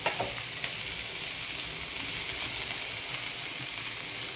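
Steady, crackling sizzle of soaked kurdai (a wheat snack) frying in hot oil in a wok, with a few sharp pops near the start and continuous bubbling throughout.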